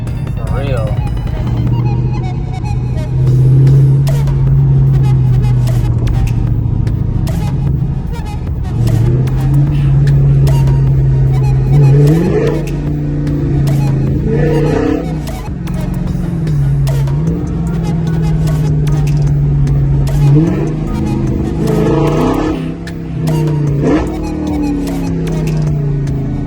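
Dodge Challenger Scat Pack widebody with fully straight-piped exhaust, loud and close, revving repeatedly in sharp rising bursts that fall back to a deep burbling idle, with people talking over it.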